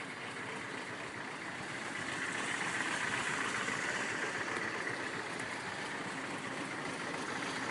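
A 1934 Packard Super 8 coupe's straight-eight engine idles steadily, a smooth even hum that holds at a constant level throughout, with no one speaking.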